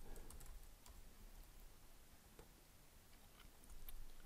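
Typing on a computer keyboard, faint and close, with soft irregular key clicks over a hissy background and no voices.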